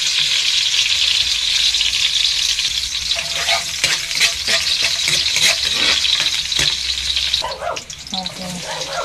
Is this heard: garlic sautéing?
yes